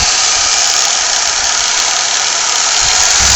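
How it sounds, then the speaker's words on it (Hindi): A Maxshine M1000 1000-watt 5-inch rotary polisher runs at speed setting 4, giving a loud, steady motor whine and hum that holds constant throughout. "और ये नॉइस लेवल दोस्तों स्पीड नंबर 4 के हैं।"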